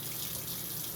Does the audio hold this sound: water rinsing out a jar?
yes